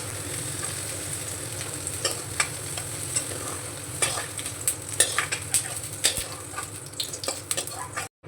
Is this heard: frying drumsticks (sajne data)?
yes